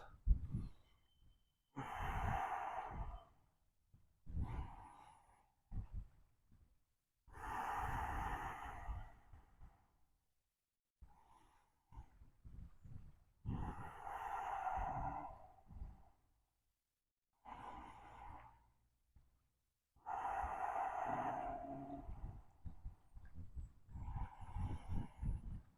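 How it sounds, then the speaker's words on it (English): Slow, deep breaths during an energizing all-levels yoga practice, long audible inhales and exhales repeating in a steady rhythm, close and soft, in an otherwise quiet room. "5 deep breaths."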